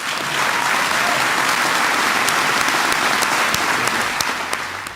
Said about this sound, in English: give Kimmo a big round of applause